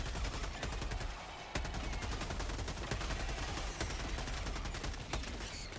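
Rapid bursts of squad gunfire in a video game, dense overlapping shots cracking continuously through the whole stretch with only brief gaps, loud and close.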